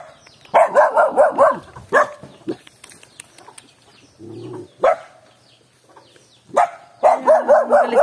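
An angry dog barks at a visitor on a rural provincial property, with pigeons perched overhead. A rapid, loud volley of barks opens the scene, scattered single yaps follow, and another fierce run of barking closes it.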